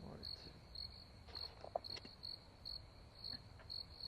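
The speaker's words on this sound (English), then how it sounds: "the cricket sounds so nice" Crickets chirp in steady, evenly spaced bursts of high trilling that repeat about twice a second, faint and continuous against a quiet background with no talking.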